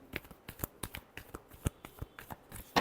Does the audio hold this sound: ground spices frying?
no